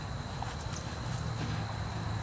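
Hooves of a trotting horse clip-clopping in a steady two-beat rhythm, fairly faint against a constant background hum, with no voices.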